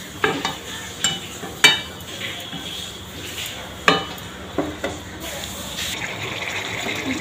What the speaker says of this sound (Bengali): জাস্ট এটা একটু কষে নিই, এটা কষা হোক।